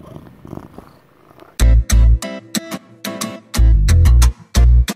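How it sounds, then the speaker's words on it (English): A pet cat purring right against the microphone indoors, heard as heavy, rumbling low pulses in two longer stretches over a quieter background hum, with no talking. "You're always just purring,"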